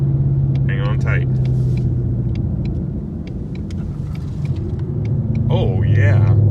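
A 2020 Ford Mustang GT on lowering springs drives through a corner, its engine a steady low rumble that swells near the end, while people talk over it inside the car.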